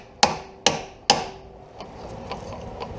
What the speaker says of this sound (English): They're hardened bolt, give them a whack.